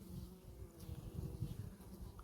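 A steady, close buzzing of many honey bees humming together on a comb, low and continuous throughout with no voices.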